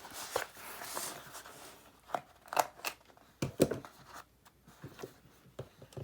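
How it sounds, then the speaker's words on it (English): A corner rounder punch trims the corners of paper on decorative composition books, making a series of sharp, close clicks and snips spaced irregularly, with soft paper rustling between them. "let's just go ahead and use my corner rounder. Trim up those corners."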